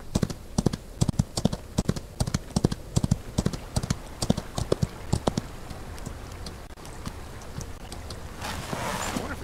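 Horse hooves clip-clopping in the Outlaws of the Old West video game: a steady, brisk stream of sharp hoof strikes over wind and outdoor ambience, fading into a rushing noisy wash at the end.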